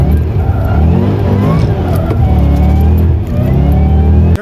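A Ford Mustang S197 accelerates hard with a loud, deep engine roar that climbs steadily in pitch as it revs through the gear, sustained and close throughout.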